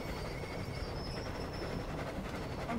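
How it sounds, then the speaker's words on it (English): An armored train rolls along in the Battlefield 1 beta, a steady, loud rumble of wheels and carriages with a constant clatter and no voices over it. "I'm actually driving the train!"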